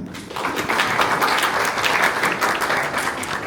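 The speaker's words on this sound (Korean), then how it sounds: "담당 연구 개발진분들께 다시 한번 큰 박수를 부탁드리겠습니다." An audience at a Hyundai Casper Electric tech talk applauds the research and development team, a loud, sustained round of many people clapping close by that holds steady for several seconds.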